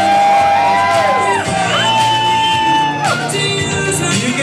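A stage-show audience whoops, shouts and cheers for a performer on a birthday night, with loud overlapping yells sustained throughout over background music.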